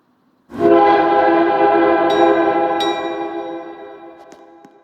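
A Ferromex locomotive horn in the FXE train game sounds one long, loud, multi-tone chord that starts abruptly and slowly fades, with a few faint clicks along the way.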